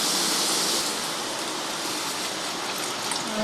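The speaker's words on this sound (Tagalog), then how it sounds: "Lalagyan ng tubig pa." Water is poured into a squash, string bean and pork soup, a steady close splashing hiss that runs evenly throughout with no talking.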